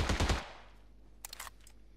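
Gunfire in the PUBG video game: a quick loud burst of automatic shots at the start, then a fainter burst of distant shots a moment later.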